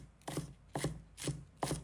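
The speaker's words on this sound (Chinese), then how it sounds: "切成葱花。" A kitchen knife chops scallions into small rings on a cutting board, four evenly spaced thuds at a steady pace, close and crisp in a quiet room.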